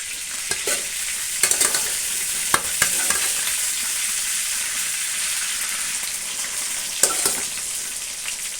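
Soya chunks and curry leaves frying in hot oil give a loud, close, continuous sizzle with occasional sharp crackles and stirring scrapes, and no voices.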